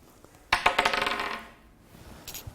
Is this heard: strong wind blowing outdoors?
no